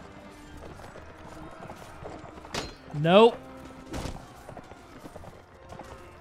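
A horse gallops in the Mount & Blade: Warband video game, with steady clip-clop hoofbeats throughout and a short whinny near the middle, plus a brief spoken word.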